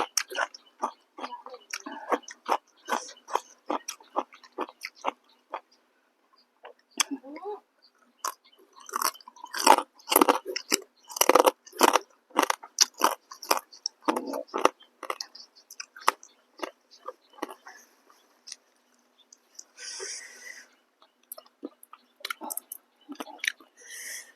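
Crisp, crunchy chewing close to the mic, irregular bites and crunches repeating in bursts with brief pauses, no talking.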